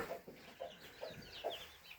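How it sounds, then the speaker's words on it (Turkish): Chickens and chicks cluck in short, repeated bursts nearby, several birds calling over one another at an uneven rhythm against a quiet background. "Civcivlerimiz çıkmış, gürkümüz çıkarmış civcivleri dolaşmaya devam ediyorlar"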